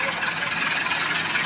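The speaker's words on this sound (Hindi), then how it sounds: "सामने ट्रैक्टर ट्रालों की एक बड़ी लंबी लाइन लगी हुई है" Tractors with loaded trolleys of paddy idle in a long queue at a grain market, a steady mid-to-low engine drone with faint vibration, fairly loud and constant, with no speech over it.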